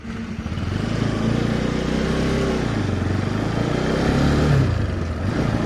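A motorcycle engine runs close by in cold Himachal weather after a hard start, a steady low chugging idle that rises briefly into a slightly higher rev near the end.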